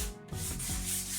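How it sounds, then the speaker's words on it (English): Wood is smoothed by hand with 220 grit sandpaper along the grain, heard as a brief, close, continuous rubbing scrape with a short dip partway through. "you take your 220 grit sandpaper and just go over it with a grain and nicely smooth out the edges"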